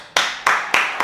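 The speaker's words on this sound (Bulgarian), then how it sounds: "Аплодисменти, дами и господа!" A few people clap four times in a slow, spaced rhythm, each sharp burst close and loud, with no talk over it.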